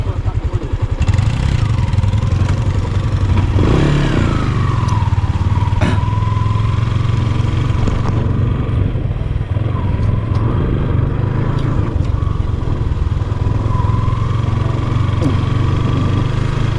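An enduro motorcycle engine running on a rough, bumpy dirt road, droning steadily at close range with rattling clatter and shifting revs throughout.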